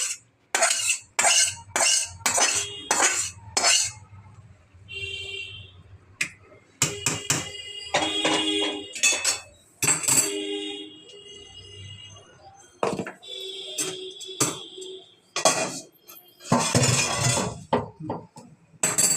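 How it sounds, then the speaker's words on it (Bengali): A metal spoon clinks and scrapes against a pot while potato curry is poured and served, producing sharp, close clatters in irregular bursts separated by short quiet gaps. "হয়ে গেছে, আমি এবার ঢেলে দিচ্ছি আলুর তরকারিটা"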